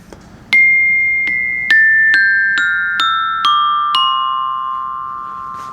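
Eight restored bells struck with a mallet one after another at an even pace, each ringing clearly and overlapping as it slowly decays, close and loud.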